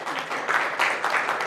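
A church congregation claps in a brief, dense burst of applause that rises and falls in small surges, close and fairly loud, with no talking over it.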